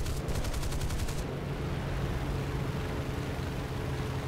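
20 mm cannon fire in War Thunder rattles out in a rapid burst of shots while strafing light pillboxes, then gives way to a steady, loud engine roar.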